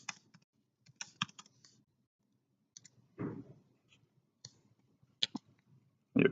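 Keys clacking on a computer keyboard as a vendor name is typed into a search box, with scattered separate keystrokes and short bursts, close and fairly quiet, with no voices.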